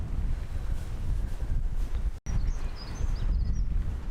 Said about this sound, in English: The wind is picking up again.